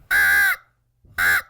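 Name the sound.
crow calls imitated to provoke a male turkey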